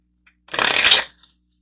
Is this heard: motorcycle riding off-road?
no